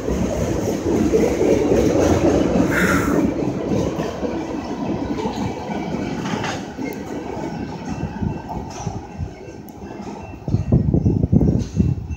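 A freight train rolls past a trackside railfanning spot with a steady, broad rumble and rattle of wagons that fades somewhat before swelling louder again near the end.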